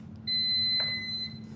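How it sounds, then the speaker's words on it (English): A workout machine gives one sustained electronic beep, a steady pure high tone lasting about a second, close and clear over a low room hum, with no talk. "It's just I don't like the beep of this particular machine."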